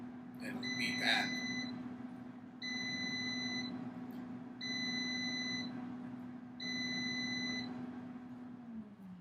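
An Instant Vortex Plus air fryer signals the end of cooking with four evenly spaced electronic beeps, each about a second long, over a steady low fan hum.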